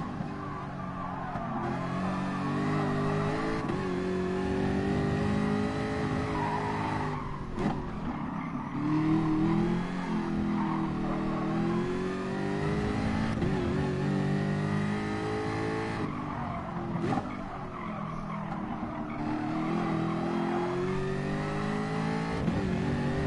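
Gr.4 race car accelerating hard at Fuji in a racing video game, a loud continuous engine drone rising and falling through gear changes for the whole stretch, with faint tire noise.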